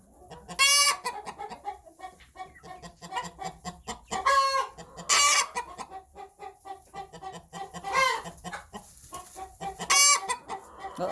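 Hens cluck steadily close by, broken every couple of seconds by loud, sharp squawking bursts, with no talking.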